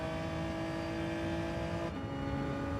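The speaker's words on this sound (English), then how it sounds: "That exhaust note is insane on that Elantra when it goes by you." A Hyundai Elantra race car in Gran Turismo 7 roars past with a loud, steady exhaust drone that drops in pitch midway as it goes by.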